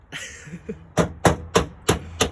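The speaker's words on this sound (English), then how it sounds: "now you're rolling your guards with a hammer" A few faint sounds at first, then a run of five sharp metallic hammer blows rolling a car's wheel guards, at a steady, even pace, close and loud.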